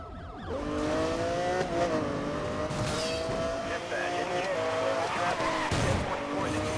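A Lamborghini racing in Need for Speed Most Wanted, its engine droning at steady high revs with gear-shift steps and tire squeals, loud and close throughout while people talk over it.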